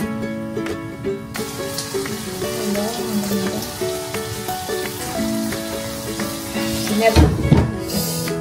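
Chicken frying in oil in a pan while making chicken pastil gives a steady crackling sizzle throughout, close and moderately loud, with a brief louder burst of spatter near the end.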